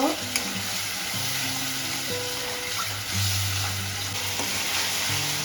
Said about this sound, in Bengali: জিরের গুঁড়ো দেব লঙ্কার গুঁড়ো দেব মশলাটা ভালো করে কষিয়ে নেব